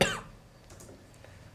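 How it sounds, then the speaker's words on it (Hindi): A single sharp cough at the start, close and fairly loud, followed by quiet room tone during a math lesson. "तभी इतनी खांसी आ रही है भाई"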